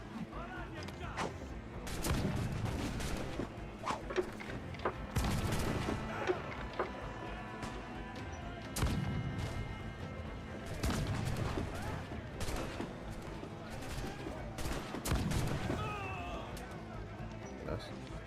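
Naval cannon fire in Assassin's Creed Black Flag: repeated heavy booms and crackling volleys at steady intervals, loud and close, over constant sea-battle noise, with shouted orders among the crew.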